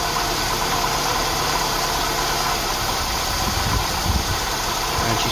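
An Austin Ambassador Vanden Plas engine idles steadily right after a carburettor mixture adjustment, a constant close-up mechanical hum and rumble with no speech.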